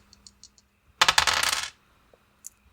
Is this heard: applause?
no